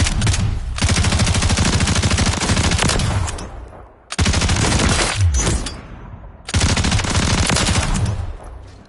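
Sustained light machine gun fire from Call of Duty MW3, loud and close, in three long continuous bursts separated by brief pauses, with no talking.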